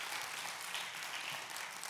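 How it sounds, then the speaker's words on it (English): Church congregation giving a round of applause during a sermon, faint and distant clapping heard briefly and steadily throughout. "Come on, give her a round of applause."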